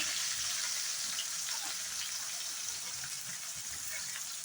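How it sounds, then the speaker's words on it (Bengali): Boiled amaranth stem greens spread into hot oil with garlic, dried chili and five-spice give a steady, fairly faint frying hiss throughout, with no clear talk. "এখন আমি অল্প অল্প করে ডাটার শাকটা মেলে দিব"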